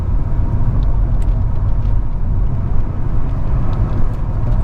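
An Audi 80 car driving, its engine and road rumble heard from inside as a steady, loud, continuous drone with no talk.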